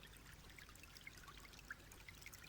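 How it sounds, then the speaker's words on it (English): Water trickles and flows steadily in the background of the Mystery of the Druids video game, a faint, continuous babble dotted with small bright droplet-like splashes. "You can hear the water, so my assumption was like, okay, this must be water in the back."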